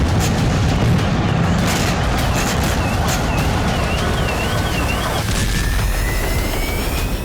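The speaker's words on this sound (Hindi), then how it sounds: "इसके कुछ ही सेकंड बाद यूक्रेन की धरती पर सिलसिलेवार धमाके होने लगे।" Missile strikes hitting the Ukrainian city of Dnipro, a dense, continuous roar of blasts and rumbling booms with crackling bursts, loud and sustained throughout with a rising whine near the end.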